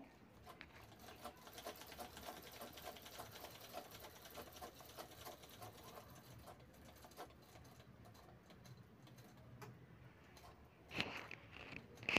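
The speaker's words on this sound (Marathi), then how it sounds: "आता कपडा उलटवून दोन्ही बाजू शिवून घ्यायच्या आहेत साईडच्या।" A home sewing machine stitches the side seams of a fabric handbag made from leftover brocade blouse material, a steady rapid whirring run that continues for about ten seconds before a brief pause and a couple of louder bumps near the end.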